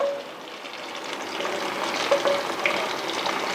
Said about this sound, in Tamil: ஸோ இது நல்லா கொதிக்குது.